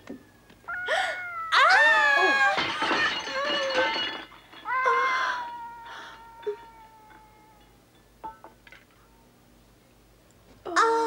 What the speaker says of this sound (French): Oh, ce chat! Tu as un chaton?